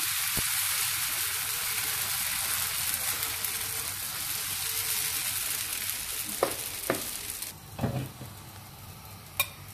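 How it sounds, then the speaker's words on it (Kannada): Dosa batter for brown rice masala dosa spread in rounds on a hot oiled griddle, giving a steady close sizzle and crackle throughout, with a few sharp utensil taps near the end. "ಈಗ ದೋಸೆ ಹಿಟ್ಟಿಂಗ್ ಹಾಕ್ಬಿಟ್ಟು ನಿಧಾನವಾಗಿ ಈ ಥರ ರೌಂಡಾಗಿ ನಾವು ದೋಸೆನ ಫಸ್ಟು ಸ್ಪ್ರೆಡ್ ಮಾಡ್ಕೋಬೇಕು"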